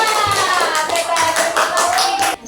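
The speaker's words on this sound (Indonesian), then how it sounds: "Berarti tepuk tangan buat kelompok 4." Close, loud applause from a class for a student group during a lesson, many hands clapping densely throughout and stopping abruptly at the end, with a faint voice underneath.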